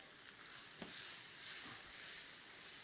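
Steak fries in butter in a pan, giving a steady close sizzling hiss with a couple of brief louder spits, and no talk.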